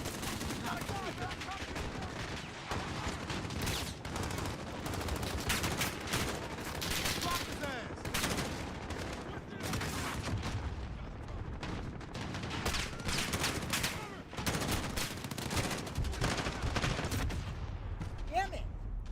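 Dense gunfire fills a Call of Duty Modern Warfare firefight, with rapid bursts and repeated shots cracking throughout at steady loudness, mixed with occasional voices.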